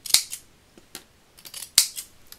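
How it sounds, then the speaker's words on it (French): Scissors snip through Christmas paper while a holiday card is being made: two sharp, close cuts about a second and a half apart, each followed by smaller clicks of the blades, with quiet between. "c'est des ciseaux pour où la colle ne colle pas."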